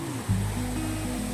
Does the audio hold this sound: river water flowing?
yes